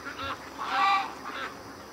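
Ducks call in a few honking, nasal bursts, the loudest in the middle, fairly close and alone without voices.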